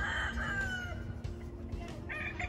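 Breeding roosters on a chicken farm crow close by, one long drawn-out cock-a-doodle-doo trailing off while other fowl call in the background, with no talking.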